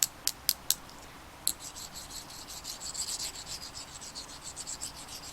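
Metal knitting needles tapped together in a few sharp, close clicks at the start, followed by softer rubbing and light scraping sounds at low volume.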